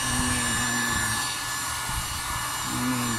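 A blower pushes a continuous loud rush of air over a dented plastic car bumper being dried after repair, with a few faint knocks and shifts beneath the steady roar.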